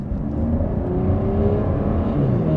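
An Aston Martin Vanquish under hard throttle, its engine note rising steadily as the car accelerates from inside the cabin, a continuous close drone with no talk.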